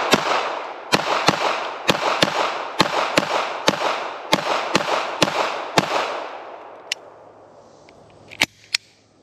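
Fresh factory HK P7-M13 pistol from West Germany firing a magazine: about a dozen sharp, loud shots in a steady rapid rhythm, with a short pause and two final shots ringing out alone.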